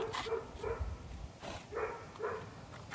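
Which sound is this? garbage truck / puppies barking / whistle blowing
puppies barking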